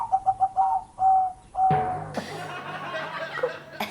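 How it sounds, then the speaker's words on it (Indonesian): A caged zebra dove (perkutut) coos in a string of short, clear repeated notes close by, then gives way to laughter and people's voices. "Suaranya seperti burung perkutut ya?"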